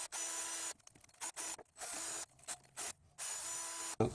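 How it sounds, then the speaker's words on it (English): Engine contact surfaces on a V6 3MZ in a Toyota Highlander Hybrid or Lexus RX400h get cleaned with a wire brush, in short rasping scrubbing strokes with brief pauses between, close up and fairly quiet. "Now we'll wire brush the contact surfaces"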